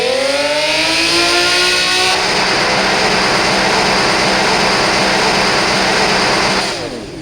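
A car engine from an engine sound app revs loudly, rising pitch climbing toward redline, then holds a sustained harsh high-rpm scream for several seconds before easing slightly at the end.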